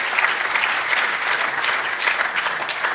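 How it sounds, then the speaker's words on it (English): A roomful of guests at a Miami networking event claps for the sponsors, producing a close, lively, steady wash of applause with slight swells and no speech. "let's give them a warm round of applause"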